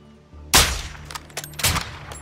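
A single sharp sniper rifle shot in Call of Duty Modern Warfare 2, loud and close, followed by a few clicks of the bolt and a second lighter report.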